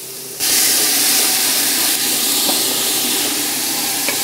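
Onions dropped into a pan of sautéing garlic, setting off a sudden loud, steady sizzle and hiss that holds at a constant level without fading.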